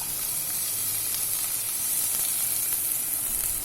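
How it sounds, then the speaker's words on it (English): Onions frying in a pan for a red lentil dal, giving a steady, even sizzle and hiss that is close and fairly loud and runs the whole time with no talk. "I'm going to add the onion bulbs into this so that it gets more time for cooking."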